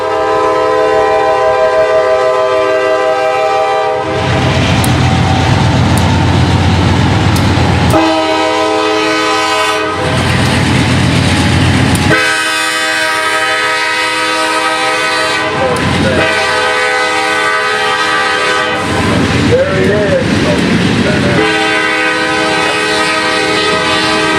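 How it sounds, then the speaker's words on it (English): Loud trains rumble through a rail junction nearby with a sustained horn blaring, wheels clattering in bursts as cars roll through, the noise swelling and dropping several times. "The two trains put on a visually exciting display as their cars rush through the junction."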